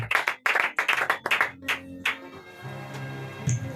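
Church congregation at a Sunday service claps in loud bursts, several quick rounds of applause that fade after about two seconds, followed by a low sustained organ or keyboard tone with faint background noise.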